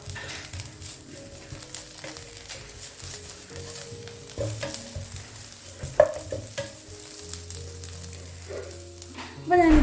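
Onions frying with chili flakes and chopped curry leaves, a sizzle under repeated scraping stir strokes and a few clanks, with a louder burst at the end.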